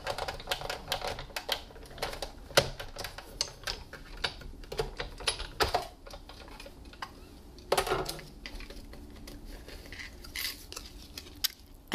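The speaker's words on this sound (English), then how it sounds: "I'll put my cutting plate on top and I'm just cutting this out." A Big Shot die-cutting machine works through cardstock stacked under a cutting plate, giving a run of irregular clicks, clacks and creaks, close and moderately quiet, with brief pauses and no talking.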